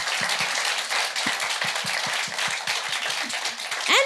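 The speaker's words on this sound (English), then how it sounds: "can we just have a big round of applause for this fabulous panel?" Audience applause for a panel at a Canberra apartment electrification event, a steady broadband wash of clapping from a crowd, sustained evenly for about four seconds with a brief voice near the end.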